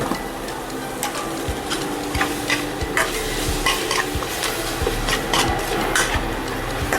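Ginger garlic paste sizzles and fries in a pan for a soya chunk masala curry, with a spoon scraping and stirring it in steady, repeated strokes close by.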